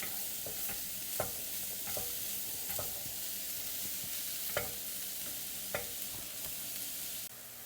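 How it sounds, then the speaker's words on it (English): Mushrooms sauté in a pan with a soft, steady sizzle, broken by occasional clicks and scrapes of a spoon moving them around; quiet and close, with no voices. "Our mushrooms have sauteed quite a bit."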